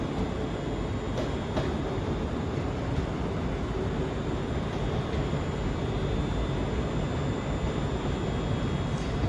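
ScotRail train arriving at Glasgow Central station, a steady, fairly faint rumble of rolling stock under the station roof with a couple of short clanks and no speech.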